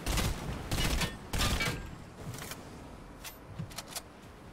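Rapid bursts of gunfire in Fortnite gameplay crack out in several loud volleys, then trail off into scattered, fainter single shots.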